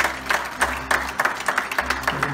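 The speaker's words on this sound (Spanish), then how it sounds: "Dale un fuerte aplauso al Señor." A church congregation at a quinceañera claps steadily, the claps fairly close and uneven in rhythm, with no voices heard over them.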